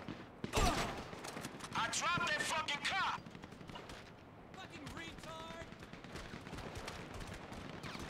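Gunfire in Grand Theft Auto 5 crackles in loud bursts, including a sharp blast early on, beneath a voice talking and game effects, then continues as quieter distant shooting.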